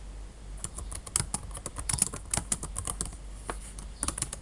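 Text being typed into Excel cells on a computer keyboard, an irregular stream of close, crisp keystrokes with brief pauses between bursts over a faint background hum.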